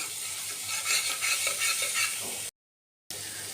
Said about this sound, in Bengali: পেঁয়াজ লঙ্কা বাটা, আদা বাটা আর রসুন বাটা সব দিয়ে কষানো